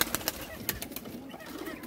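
Pigeons at a seller's stall in Gujranwala, faint soft coos and a few sharp wing flutters or clicks in a quiet, distant mix.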